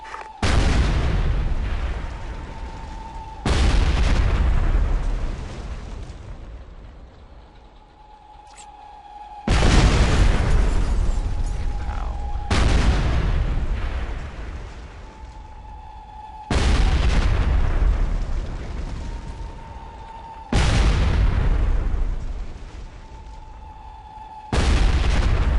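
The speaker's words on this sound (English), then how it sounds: "the airstrike took out the ADAT, the artillery took out the tank" Airstrike and artillery explosions in Ghost Recon Advanced Warfighter 2 land as a series of about seven heavy, loud booms at irregular intervals, each blast rolling off into a long decaying rumble before the next hit.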